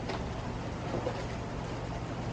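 A diesel engine fitted with injectors runs at a steady idle, a dense continuous rumble that stays at an even level for the whole stretch with no talking.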